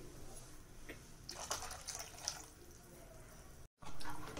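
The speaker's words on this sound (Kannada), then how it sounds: "ಇನ್ನೊಂದು ಸ್ವಲ್ಪ ನೀರು ಹಾಕ್ತೀನಿ, ಕಾಳು ಬೇಯಬೇಕಲ್ಲ" Water is poured into a cooking pot for Karnataka-style avarekalu saaru, a field bean curry, giving a soft continuous splashing trickle with a brief gap near the end before the flow resumes more strongly.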